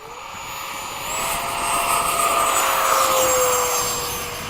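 Freewing 90mm F-15 model jet taking off, its electric ducted fan whine rising in pitch and swelling in loudness as it accelerates away, heard alone at moderate distance.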